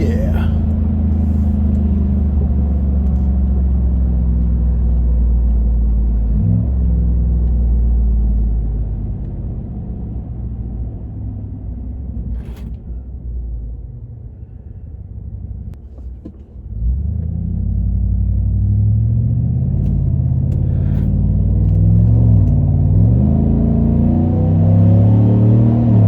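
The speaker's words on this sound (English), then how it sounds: "Get a quick little pull in the Silverado." Chevrolet Silverado pickup truck running on E85 fuel, its engine a loud, steady low rumble that dips in the middle and swells again as the truck pulls forward, with people talking over it.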